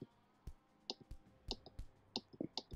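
Mouse buttons clicking during Roblox play, a scattered run of sharp, close clicks in quick irregular bursts with no speech over them.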